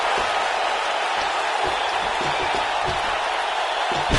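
A capacity arena crowd roars in WWE 2K19, a dense, constant wash of cheering and applause with scattered thuds from the ring underneath.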